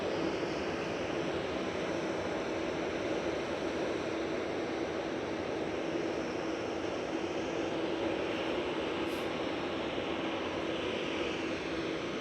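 A Brussels Airlines Airbus A320-200 takes off at Manchester Airport, a steady, broad jet roar heard from a distance, fairly faint and unbroken throughout.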